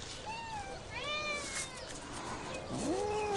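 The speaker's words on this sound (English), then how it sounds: "Cats from far and wide are irresistibly drawn to a seemingly insignificant plant." Several cats drawn to a catnip plant meow and caterwaul in drawn-out, rising and falling cries, one after another and fairly close, over a soft background hiss.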